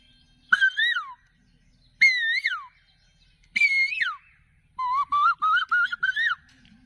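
A person's voice mimics a cuckoo call with three rising, whistle-like swooping notes followed by a quicker run of repeated rising notes, close and clear with silence between phrases.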